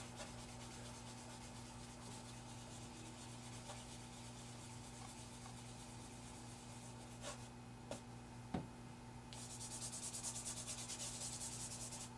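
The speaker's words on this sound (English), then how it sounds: "You can use our kneaded eraser to" A kneaded eraser and vine charcoal rub softly across drawing paper in quiet, scratchy strokes, with a few sharp ticks near the end and no talking.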